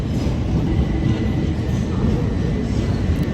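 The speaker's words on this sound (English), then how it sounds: "Is there a train coming to ruin my video?" A train rumbles past close by near a London station, a loud, steady, heavy roar with no break for the whole moment.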